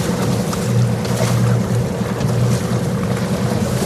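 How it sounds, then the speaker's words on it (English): A sailboat motoring under engine power at 1100 RPM on a calm sunny morning in the eastern Bahamas, a low steady engine drone mixed with wind buffeting and water rushing past the hull. "just motoring right now, 1100 RPM"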